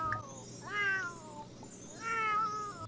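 A pet cat meows twice, each call a drawn-out, wavering mew at close range, separated by a pause over a steady low household hum.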